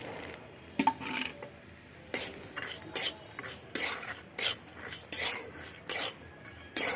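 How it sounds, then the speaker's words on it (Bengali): Raw peanuts stirred through hot salt in a pan give repeated dry scraping, rattling strokes in an uneven rhythm, close and fairly quiet, with no talking. "এইভাবে নুনের মধ্যে ভাজলে পরে বাদামগুলো খুব সুন্দর হয়।"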